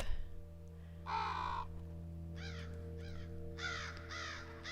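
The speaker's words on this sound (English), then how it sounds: "Crows are coming." Several crows caw in short harsh bursts, one long call followed by a run of quicker paired caws, fairly clear over a steady low hum with no speech.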